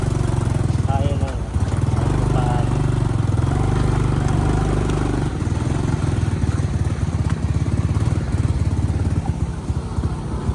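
An ATV engine runs steadily and loudly throughout, a continuous buzzing drone with a brief knock near the start.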